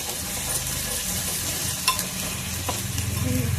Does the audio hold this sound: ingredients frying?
yes